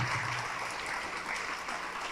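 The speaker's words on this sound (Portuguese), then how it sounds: "Vamos aplaudir ao nome de Jesus" A church congregation applauds steadily, a dense wash of clapping that holds at an even level for the whole stretch with no voices standing out.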